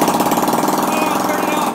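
A stretched Honda Ruckus scooter engine running close by, a rapid, even, buzzing putter with steady rhythmic pulses, held at a fairly constant rev for under two seconds.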